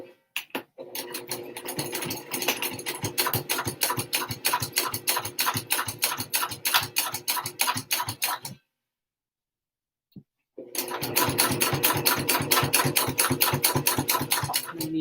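Sewing machine top stitching the top edge of a fabric wristlet, a fast steady needle chatter that runs for several seconds, stops briefly, then resumes at the same close, loud pace.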